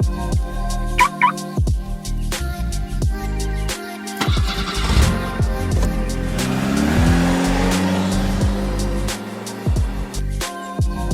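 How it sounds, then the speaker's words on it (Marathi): A car arrives on a street in Entebbe, Uganda, to pick up passengers, its engine humming close by with some tire noise and shifting engine tones as it pulls up. "तर आमची गाडी आलेली आहे"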